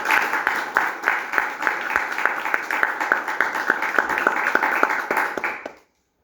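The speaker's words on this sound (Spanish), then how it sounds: "recibamos con un voto de aplauso a nuestro general" An audience gives a general a steady round of applause, dense rhythmic clapping lasting several seconds before it stops abruptly.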